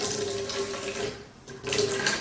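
Water spills and splashes from the water tank of a laser hair removal machine, a close, steady rushing pour that dips briefly midway and then surges back strongly.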